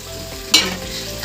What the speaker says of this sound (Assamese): এইখিনি লৰাই দিয়া ধুনীয়াকৈ